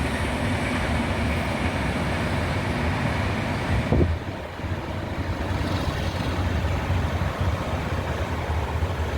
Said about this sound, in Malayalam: ട്രെയിൻ പോ പോകുന്നത് കാണുന്നത് ട്രെയിനിൻ്റെ സൗണ്ട്